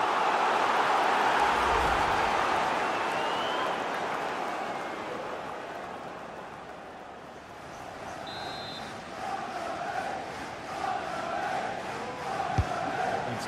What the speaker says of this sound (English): the crowd are certainly trying to motivate the players to get the equaliser